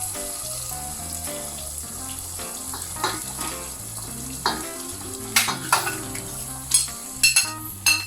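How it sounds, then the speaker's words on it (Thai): Pork stir-frying in a pan with panang curry paste for a Thai panang curry, a low sizzle under soft background music, with spatula scrapes growing more frequent and louder in the second half. "ใส่หมูลงไปผัดต่อนะคะ"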